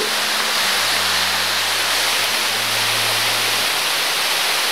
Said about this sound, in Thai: ที่เห็นด้านหลังก็คือ น้ำตก ห้วยแม่ขมิ้นนะครับผม